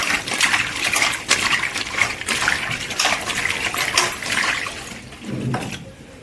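Dried fish pieces being washed in a vessel of water, with steady splashing, swishing and pouring sounds close by throughout, easing off near the end.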